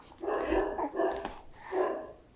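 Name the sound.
dog barking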